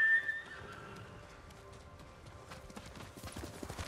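Horse in the samurai open-world game Ghost of Tsushima, hooves clip-clopping in a steady trot with a whinny near the start, sounding close over a soft game ambience.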